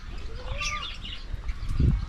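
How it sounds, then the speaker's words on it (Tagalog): Pet parakeets chirp faintly with a short whistled call, and a soft flutter of wings rises near the end, close by against a low background rumble. "May mga alaga pa naman tayong ibon dyan."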